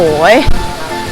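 A forest waterfall gives off a constant rushing wash of water beneath a woman's excited, close voice during a brief walk through a jungle resort in Rayong, Thailand.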